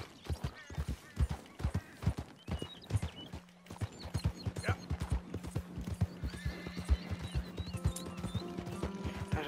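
In Red Dead Redemption 2, a horse gallops down a slope in steady, close hoofbeats, with a whinny partway through and game sounds and music swelling underneath toward the end.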